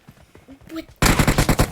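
Gunfire in a battle royale video game erupts suddenly after a quiet moment with speech, a rapid loud automatic burst of closely spaced shots.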